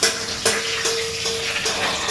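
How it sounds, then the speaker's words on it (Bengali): Fish fries in a pan with a constant close, loud sizzle, broken by a few sharp crackling pops and light ticks; no one talks. "মাছ ভাজা হচ্ছে, দেখো"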